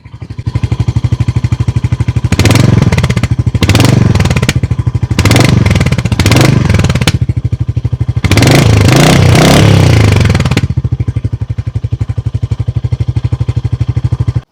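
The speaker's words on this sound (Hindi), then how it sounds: "अब सुनते हैं हंटर का एग्जॉस्ट।" Loud, close exhaust note of a Royal Enfield Hunter 350 motorcycle, a steady thumping idle punctuated by repeated throttle blips and a longer rev, then easing back to idle.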